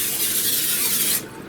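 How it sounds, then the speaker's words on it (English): Cooking spray hisses in one continuous close burst over breaded pork chops headed for the oven, cutting off sharply after about a second. "grab some cooking spray and just lightly"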